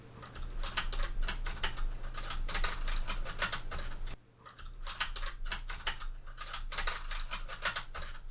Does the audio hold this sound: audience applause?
no